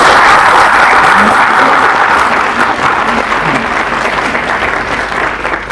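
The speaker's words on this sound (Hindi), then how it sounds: "एक बार जोरदार तालियां आप सभी के लिए।" Loud, sustained applause from an audience at a government event where the Chief Minister honours CBSE topper students from government schools, dense clapping that fades slightly over several seconds with no talking.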